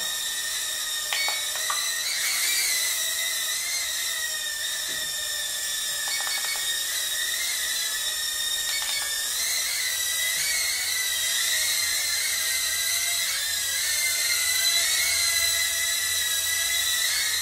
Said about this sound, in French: le quadcopter met automatiquement des gaz avant le flip